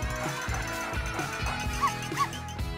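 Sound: dog barking in a cartoon

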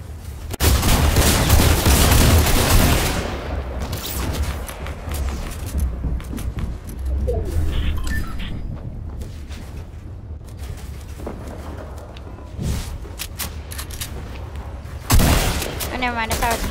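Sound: gunfire in Fortnite video game

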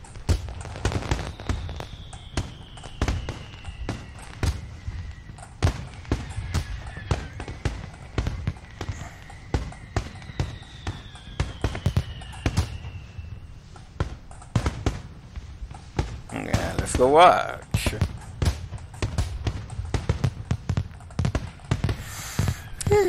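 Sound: fireworks show in the video game Katawa Shoujo

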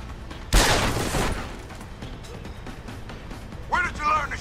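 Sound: gunfire in Deus Ex Human Revolution video game

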